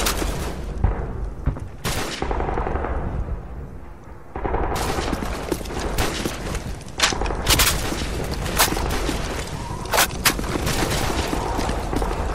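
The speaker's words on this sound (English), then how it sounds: "We're taking heavy fire on our position north of the overpass!" Heavy gunfire in a firefight near an overpass: loud, dense bursts of rapid shots and deep booms fill the clip, with a brief lull around four seconds before the barrage resumes.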